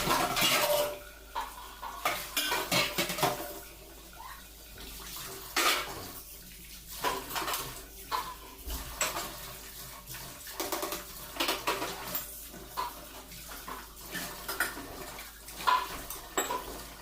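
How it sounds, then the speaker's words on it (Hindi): Dishes are washed by hand in a home kitchen, with running tap water and repeated clinks and clatters of plates, pots and cutlery in quick, irregular bursts, no voices. "इतनी जल्दी जल्दी मैं बर्तन धो रही हूँ"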